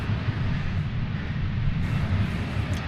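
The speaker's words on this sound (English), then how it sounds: "here goes this flight to Minneapolis, St. Paul" Airliner departing DFW airport on a flight to Minneapolis St. Paul, a continuous heavy low-pitched jet engine roar heard from a distance, steady throughout.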